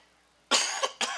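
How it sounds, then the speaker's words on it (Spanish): A person coughs twice, close to the microphone, with sharp harsh bursts after a moment of quiet. "Esta tos es el producto de Transmilenio."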